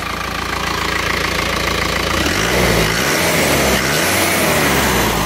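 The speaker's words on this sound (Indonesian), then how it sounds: "Nah ini suara mesinnya seperti ini, halus." An Isuzu Panther diesel engine runs after a repair, idling close and loud with a steady knock, then picks up briefly in a couple of short revs before settling again.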